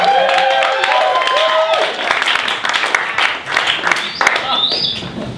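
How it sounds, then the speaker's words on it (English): An audience claps and cheers loudly, with shouts and whoops mixed through steady rounds of applause that thin out toward the end. "Your applause is not quite enough for me"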